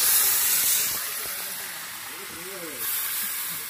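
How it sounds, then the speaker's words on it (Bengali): Water splashes into a hot pan of sautéed pumpkin, setting off a loud hiss of steam that slowly fades, with a brief voice and some clatter partway through. "এখন দিয়ে দেবো পরিমাণ মতো জল।"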